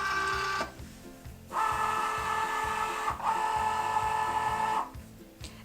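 A Cricut Joy cutting machine loads its mat, with a rapid rhythmic ticking drive that runs throughout and whirring motor tones that rise and stop in several segments, close and clear.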